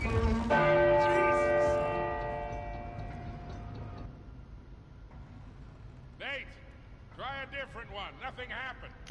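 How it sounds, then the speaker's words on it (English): A large bell in the Uncharted 4 clock tower puzzle tolls once loudly and rings out for several seconds. A voice then talks over the fading tail. "I rang the bell."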